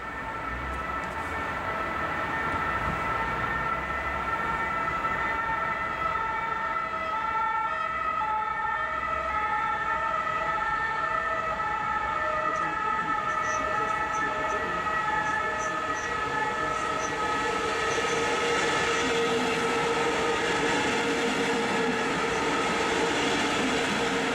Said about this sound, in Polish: Wjeżdża pociąg osobowy kolei mazowieckich do Mławy.